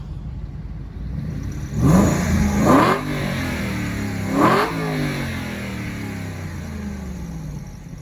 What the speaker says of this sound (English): Let me give y'all some revs though.